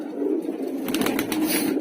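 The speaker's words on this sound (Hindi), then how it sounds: "ये देखिए भाई कबूतर ही कबूतर है इस जाल के अंदर, इस लॉफ्ट के अंदर में" Soft pigeon cooing and rustling from a loft full of Madrasi and Punjabi breed pigeons, a short close murmur with a few brighter calls near the end.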